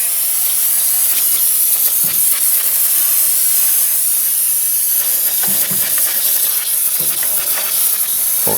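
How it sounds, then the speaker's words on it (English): An aerosol can of brake parts cleaner sprays down around the crank pulley of an overheating Jeep Liberty engine to clear antifreeze. One continuous, loud, close hiss lasts throughout with faint clanks under it and no speech. "We always use some brake parts cleaner."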